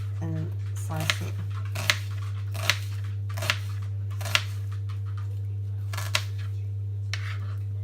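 A knife slices through a peeled onion on a cutting board for a home-cooked family meal: about eight crisp, evenly spaced cuts over a steady low hum.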